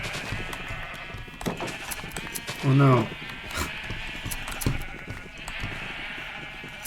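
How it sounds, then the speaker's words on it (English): A black sheep in Minecraft gives one short, close bleat partway through, over busy game sounds and ongoing talk. "Alright, got my black sheep."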